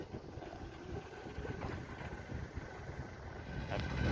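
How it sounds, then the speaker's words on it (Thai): A cool breeze blows across open rice fields, heard as a steady, close, rumbling wind buffeting the microphone that swells slightly toward the end, with no talk. "ลมเย็นนะครับแดดจะร้อนก็ ลมก็ยังเย็นดี"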